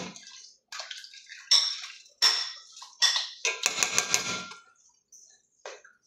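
Chicken and rice seasoned with paprika are mixed in a pot, making close, wet, squelching stirring strokes in short bursts separated by brief silences.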